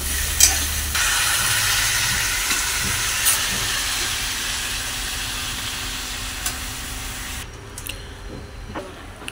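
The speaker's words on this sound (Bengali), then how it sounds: "এবারে আমরা ঝোল বাড়িয়ে নেবো পরিমাণ মতো জল দিয়ে।" Water poured into a sizzling rohu fish curry with potato and pointed gourd sets off a loud, steady hiss of steam and frying that fades gradually, with a few clinks along the way.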